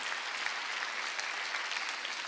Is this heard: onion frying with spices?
no